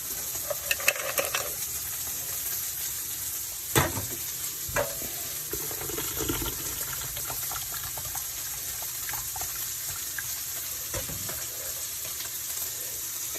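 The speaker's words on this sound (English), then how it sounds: "so your bacon is rendering here" Bacon rendering in a pan, a steady, fine sizzle of frying fat running throughout, with occasional clinks and stirring knocks on top, and no one talking.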